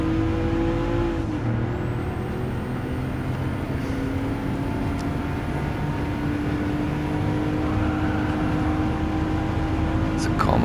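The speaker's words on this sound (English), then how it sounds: "And again, I'm trying to rev it up more than it likes" A Porsche 911 Turbo (930) from 1981, nicknamed the Widowmaker, revs its engine in Gran Turismo 7: a steady droning engine tone that climbs slowly in pitch, with a voice talking over it at times.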